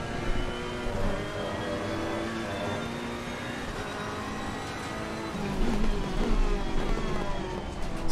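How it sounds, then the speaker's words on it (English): A Ferrari race car engine in a racing video game, at Silverstone, drones at high revs, whining and shifting pitch as it accelerates, loud and steady with a surge near the end. "Such a nice change to drive Ferrari with the sound."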